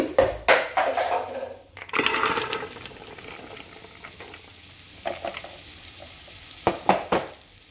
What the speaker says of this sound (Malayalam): മുളകും മഞ്ഞളും ഒന്ന് ചൂടാവുന്ന ഒന്ന് മിക്സ് ചെയ്തെടുക്കാം.